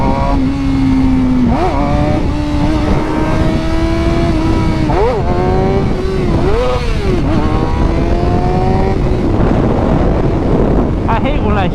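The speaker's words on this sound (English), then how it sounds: "When I rev it too high in first gear" Suzuki GSXR 600 sport bike engine revving high in first gear and accelerating, loud rising whine with several sharp rev changes and shifts, heavy wind noise throughout and no talking.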